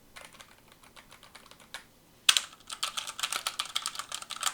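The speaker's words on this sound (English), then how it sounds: "your standard mechanical keyboard" Typing on a standard mechanical keyboard: a steady run of crisp key clicks, lighter and sparser at first, then a sharp clack followed by louder, denser rapid keystrokes, close and alone.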